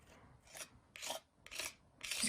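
Paint is scraped down with a tool in four or five rhythmic rasping strokes, each a short, dry, gritty scrape, close and quiet with brief pauses between.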